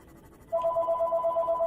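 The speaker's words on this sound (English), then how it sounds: "Ugh, stupid phone." A ringtone suddenly starts and repeats in a steady electronic pattern, loud and close, alone with no talking, while someone plays the underwater survival game Subnautica.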